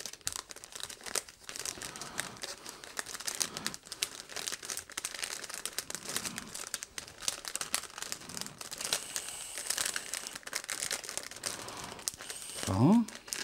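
Wrapping paper crinkling and rustling as Christmas presents are wrapped indoors, a near, continuous crackle of paper handling with a brief tearing or tape sound near the end.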